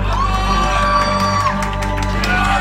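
A concert crowd in a Lyon café claps, whoops and shouts loudly and steadily for a singing drummer, with sustained cheering voices layered over the applause.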